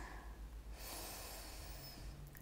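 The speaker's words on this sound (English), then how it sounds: "Inhale through your nose." A single slow, steady inhalation through the nose during a yin yoga class, soft and close, with a gentle airy rush that swells partway through and continues to the end.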